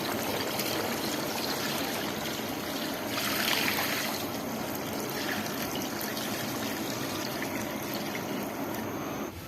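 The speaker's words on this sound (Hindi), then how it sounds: "और 5 लीटर इसमें पानी शामिल कर देंगे।" Five liters of water poured into a large haleem cooking pot: a continuous rushing, trickling flow that keeps a steady level for several seconds, briefly swelling louder midway, with no voices.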